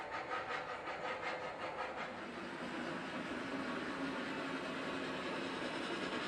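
Model trains run on a home train layout, giving a continuous close, even rolling whir and hiss with faint rhythmic clicking of wheels, steady and unbroken with no voices.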